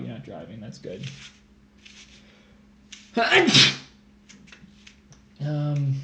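A single sharp sneeze bursts out mid-conversation, with people talking before and after it.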